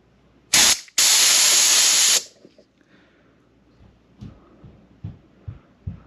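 Compressed air blows into the fuel inlet of a two-stroke snow blower in two loud hissing bursts, a short one and then a longer one, followed by quiet clicks and faint handling noises.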